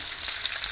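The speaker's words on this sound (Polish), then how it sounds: "Czosnek już nam się lekko podrumienił, przepięknie pachnie, a zatem wrzucamy paprykę." Bell pepper hits a hot pan of lightly browned garlic for a Polish pepper-tomato fish soup, giving a brief, steady, close hiss of sizzling oil.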